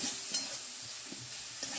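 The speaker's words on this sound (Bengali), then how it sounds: "যতক্ষণ তেল না ছাড়বে ওতে আমি নাড়তেই থাকবো, নাড়াটা বন্ধ করবো না" Steady hiss of frying in oil, broken by soft scraping strokes of a spoon stirring through a thick ground spice paste, close by.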